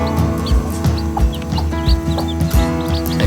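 Domestic backyard chickens cluck repeatedly in short, irregular bursts close by, with soft low thumps and a steady background hum beneath them.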